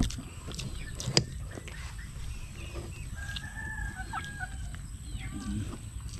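Chickens in a rural yard, with a rooster crowing and hens clucking at a moderate distance. The calls come in short bursts over steady low background noise.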